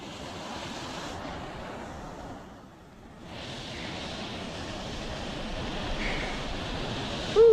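Wind blowing outdoors at a crappie fishing spot: a steady, broad rushing noise that dips briefly into a softer lull partway through, then returns at full strength.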